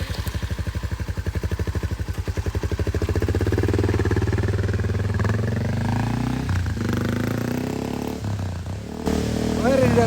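A Honda Monkey motorcycle engine running loud and close on a dirt trail, first a rapid pulsing idle and then a steady rising drone as the bike rides off, with brief voices early on.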